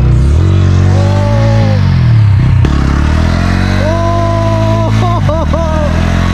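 A motorcycle engine drones and revs loudly in uneven surges as the bike struggles, stuck on a river sandbar, with a voice calling out over the noise.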